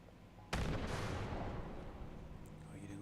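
A grenade explosion in the video game Fallout 76 bursts loudly and suddenly, then trails off into a long rumbling, crackling decay that stays fairly loud to the end.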